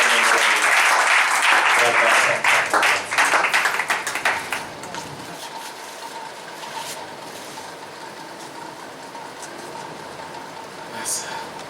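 A church congregation at a prophetic deliverance service bursts into loud, dense applause that swells for several seconds, then fades into scattered claps and faint voices.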